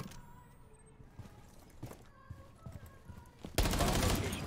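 Gunfire in Rainbow Six Siege, a scatter of separate sharp shots under faint game sounds, followed by a sudden dense burst of loud rapid fire at the end.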